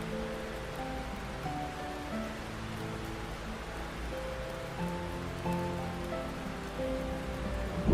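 Gentle rain falling steadily on a cabin roof, a dense, even patter of drops with no voices, moderately loud and continuous throughout.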